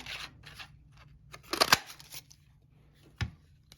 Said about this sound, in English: I'm just gonna punch out a couple of these two colors. Ooh, that's so loud.